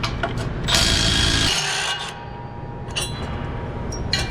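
An electric impact wrench whirs and rattles close up as it backs out exhaust bolts on a Ford F150 with a 5.0 engine during an MBRP exhaust install. One steady loud run is followed by quieter bursts and clunks.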